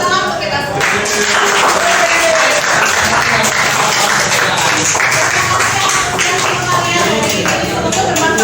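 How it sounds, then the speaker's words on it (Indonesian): Audience applause at the close of a Friday school training session on a teaching module, dense continuous clapping for the whole stretch with a few voices mixed in. "Tepuk tangan untuk kita"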